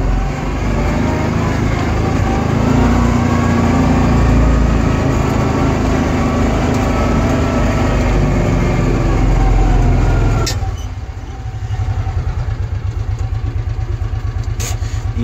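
A Mule utility vehicle engine drones loud and steady as it drives off-road, then settles into a rhythmic idle-like thumping near the end.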